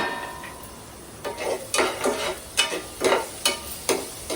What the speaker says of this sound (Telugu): కొంచెం ఉల్లిపాయ వేగనివ్వాలి